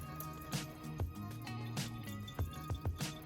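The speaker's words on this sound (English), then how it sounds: "we can put this whole tube system into our sink to drain" Water trickles and drips from the drain tubes of a GE Opal 2.0 nugget ice maker into a sink, a close, irregular patter of drops and small splashes that continues steadily.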